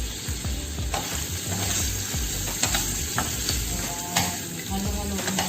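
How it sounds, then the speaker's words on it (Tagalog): Pork adobo frying in a pan, with a continuous loud sizzle and crackle and intermittent stirring scrapes and clinks. "Antayin lang natin siyang mag-fry guys."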